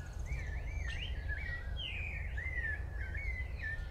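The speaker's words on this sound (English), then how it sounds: "This is the great curassow," A great curassow, a rare bird of the chicken family, calls at the Belize Zoo with a run of thin whistled notes. The notes rise and fall against a steady low background rumble and sound fairly faint.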